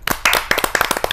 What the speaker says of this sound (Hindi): तो तालियों की गड़गड़ाहट से स्वागत करते हैं रचना निर्मल जी का।